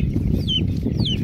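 Desi hens on a free-range poultry farm give two short, rising clucking calls over a steady low background hum.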